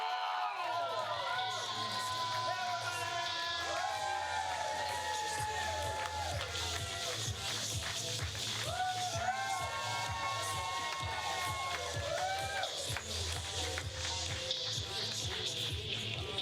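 A theater audience claps and cheers for an improv troupe, steady dense clapping with scattered whoops throughout, heard at moderate distance under music.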